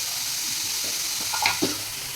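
A ground paste with drumstick leaves sizzles steadily in a pan, with a soft stirring scrape or two breaking through the continuous frying hiss.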